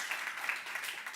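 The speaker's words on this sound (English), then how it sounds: "So a round of applause for all our discussants here." Brief burst of applause, a dense patter of many hands clapping at moderate volume.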